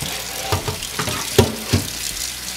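Tap water runs over brisket in a strainer at a kitchen sink while making Korean bone broth soup, a steady close splashing broken by a few louder splats and clunks as the meat shifts.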